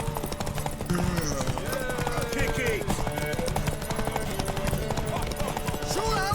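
Horse hooves clip-clop steadily in The Witcher 3: Wild Hunt, a continuous rhythmic clatter under game music, crowd noise and a spoken voice.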